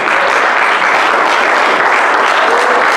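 A church congregation bursts into loud, sustained clapping during a sermon, the applause thick and unbroken throughout.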